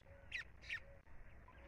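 Rufous cacholote (casaca de couro) calling over a river in the Brazilian sertão, two short harsh raspy bursts close together, then quieter ambient background.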